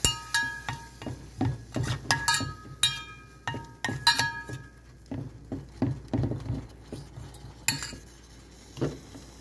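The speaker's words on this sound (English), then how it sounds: "Keep stirring." A utensil stirring fried flour as milk is added in a pan, giving repeated light metallic clinks and scrapes against the pan in an uneven rhythm, close and fairly quiet, with no talking.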